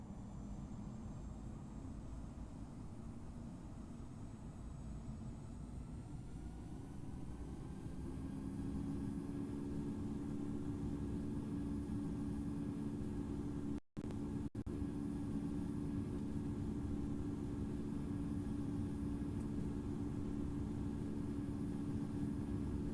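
An airliner in the Infinite Flight simulator spools up for takeoff, with a steady jet engine roar and hum that grows louder and fuller about midway through and then holds.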